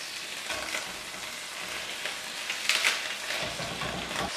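Spinach sizzles steadily in a hot pan with garlic and melted anchovies, a continuous bright frying hiss with occasional stirring scrapes and a brief louder crackle near the middle.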